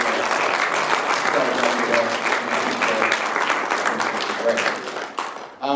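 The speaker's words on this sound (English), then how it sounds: "we'll just ask for one more round of applause" A sustained round of applause from an audience at a film Q&A session at the State Library of Western Australia. It is dense and loud throughout, then fades out sharply near the end.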